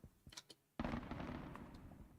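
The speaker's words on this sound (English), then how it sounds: "Dude, these explosions are crazy." Bomb explosions in the video game Voima: a few sharp pops, then a sudden loud blast that rolls into a sustained crackling rumble of further detonations.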